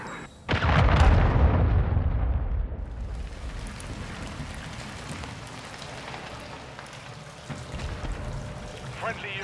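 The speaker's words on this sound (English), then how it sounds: "Hostiles launched a cruise missile." A cruise missile strike in Call of Duty Modern Warfare III on the Scrapyard map: a loud, close blast that swells into a heavy rumbling roar for a couple of seconds, then fades into a scattered, crackling debris wash with a voice in the background.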